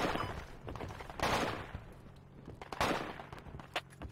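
Gunfire in the military shooter Project Reality v1.39 on the Al Basrah map: heavy bursts of rifle and machine-gun shots, some close and loud, others more distant, with fast rattling volleys.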